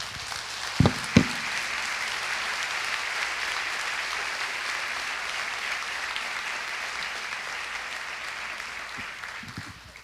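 A church congregation breaks into long, steady applause during a service, a dense clapping wash holding evenly for several seconds before slowly tapering, with a couple of sharp knocks near the start.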